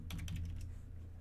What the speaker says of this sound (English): and then just start typing